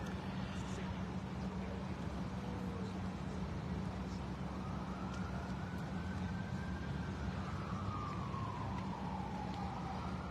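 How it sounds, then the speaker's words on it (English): A police siren wails in the distance in Providence, Rhode Island at night, rising and falling slowly over a steady low traffic rumble. "now we can hear sirens in the background"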